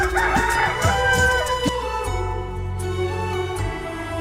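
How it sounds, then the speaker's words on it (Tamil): A rooster crows loudly nearby in one long cry in Navatkuli, Jaffna, Sri Lanka, with other fowl clucking and faint background bird noise. "பார்த்தீங்கன்னா கோழி உண்டு சேவல் உண்டு"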